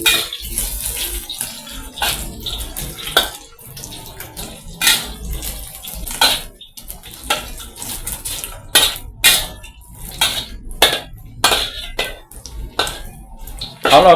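Ready-made crispy pork being stir-fried in a pan to heat it and crisp it again: a steady, close run of sharp metal scrapes and clattering spatula strikes over a light sizzle, with no talking.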